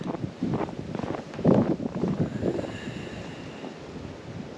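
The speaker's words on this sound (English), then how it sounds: "We're kind of in like a blizzard" Blizzard wind buffets the microphone at an off-grid homestead in snowy weather, a rough roaring gust that swells and eases over a few seconds, steady and close with no voices.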